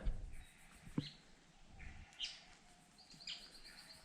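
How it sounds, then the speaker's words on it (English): Birds calling in the Australian bush, a few scattered chirps and whistled calls at moderate distance over a faint outdoor background, with brief rustling or handling noise. "These GoPros are pretty good at picking up bird calls, so you should be able to hear it."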